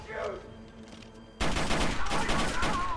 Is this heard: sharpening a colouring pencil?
no